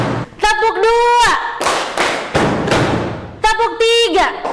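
A class of schoolchildren claps in a classroom rhythm game, with a few loud broadband claps between a teacher's spoken cues, near and sharp.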